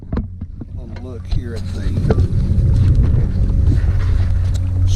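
A kayak motor running at one of its fastest speeds into a headwind on winter water, a loud steady engine drone building up as wind buffets the microphone, with someone talking briefly at the start.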